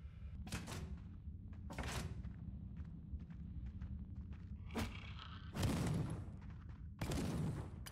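Shotgun fire in the video game Death Trash, several sharp booming blasts spaced irregularly over low background noise, with the last two shots loudest.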